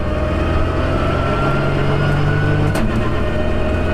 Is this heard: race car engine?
yes